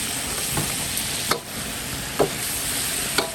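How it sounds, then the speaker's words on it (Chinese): Duck meat tossed in a hot wok with ginger and chili peppers, a steady loud sizzle of frying broken by a few sharp scraping stirs of the spatula. "再把一盆的鸭肉下锅"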